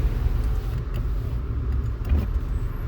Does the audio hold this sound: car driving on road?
yes